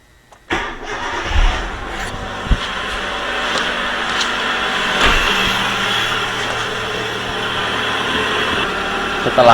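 A car engine cranks and catches after being restarted during a radiator coolant change, then settles into a steady mid-pitched idle with a few small clanks and distant voices underneath.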